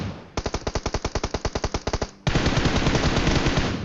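Automatic gunfire in PUBG Mobile: a rapid burst of about sixteen evenly spaced sharp shots, a brief gap, then a louder sustained stream of continuous fire, close and with no talk.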